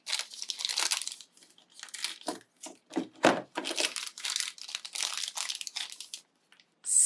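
Close, crisp crinkling and snipping noises come in short bursts with brief pauses, like scissors cutting through the plastic packaging of a Funko figure.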